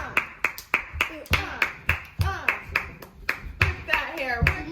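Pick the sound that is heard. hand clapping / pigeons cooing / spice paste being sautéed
hand clapping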